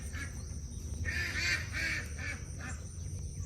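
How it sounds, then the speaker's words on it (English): Farm ducks and turkeys calling back and forth, a run of nasal honking and quacking calls over a steady background hum, moderately close and heard without speech. "The ducks and the turkeys love hollering at each other."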